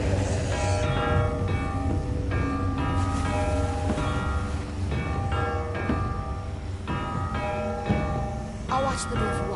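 Bell rung in The Walking Dead: The Final Season game, heavy repeated clangs ringing out over a dense in-game music and ambience bed, loud and sustained throughout.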